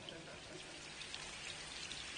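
Steady rain falls outside a residence in Encino, California, a soft, even patter that stays faint and continuous throughout, with no voices.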